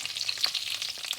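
Potatoes are tossed with olive oil, salt and parsley, giving a soft, continuous wet rustle with faint clicks, close and quiet for just over a second.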